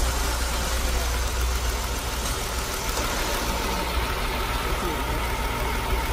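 A car engine runs with a cylinder misfire, a steady, close idle drone that continues unbroken throughout.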